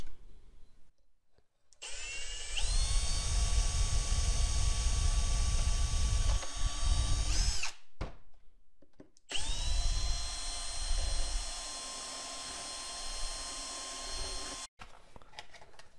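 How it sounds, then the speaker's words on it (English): A cordless drill spins up and bores in two separate runs, a high steady whine over low grinding, with brief silences between, fairly close. "get your drill and just drill a little hole on the top."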